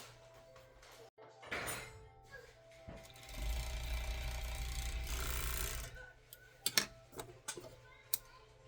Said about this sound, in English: now I'm just gonna sew around right here